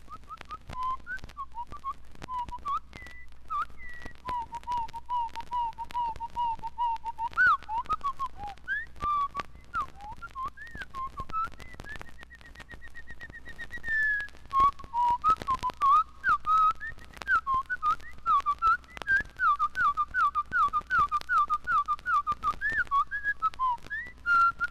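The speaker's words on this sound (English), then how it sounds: "Here's the Winter Wren's song, brought down 2 octaves and spread out to 3 times its normal duration, played at 1/4 speed." A Winter Wren's song played two octaves lower at quarter speed, turning it into a slow, clear run of whistle-like notes, trills and slurs. The tones glide and warble in a steady series over about twenty-five seconds, and no one talks.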